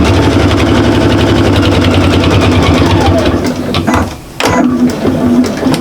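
A sewing machine stitches a shopper bag with a steady, fast mechanical whirr, loud and close, breaking off briefly near the end for a short back stitch before running on.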